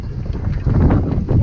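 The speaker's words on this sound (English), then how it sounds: "The wind went up to 25 knots." Strong wind gusting at 25 to 30 knots around a sailboat anchored in a large bay in the Ionian Sea, Greece, heard as steady, close, low buffeting roar that swells in surges.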